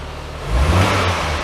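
Barn-find Austin Allegro engine at operating temperature, revved briefly: a close, loud, rough engine note swells over about half a second, holds a gritty mid-range drone, then eases slightly, with no talk.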